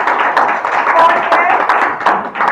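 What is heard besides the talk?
audience applause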